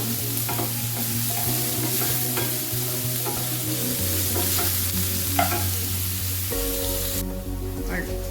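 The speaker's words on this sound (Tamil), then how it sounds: "வெங்காயம் நல்லா வதங்கிடுச்சு பொன்னிறமாக வதங்கிடுச்சு" Chopped onions sautéing in a pan until golden brown for a squid fry, a steady close sizzle with occasional stirring scrapes, while a low hum runs underneath throughout.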